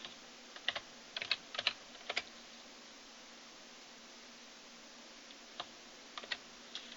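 Scattered clusters of computer keyboard keystrokes as values are typed in, quiet and close, with short clicky bursts separated by pauses over faint background hiss.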